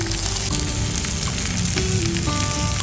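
Tomatoes and ginger fry in a pan over a wood fire for chicken curry, giving a loud, continuous close sizzle throughout with faint tonal sounds in the background and no speech.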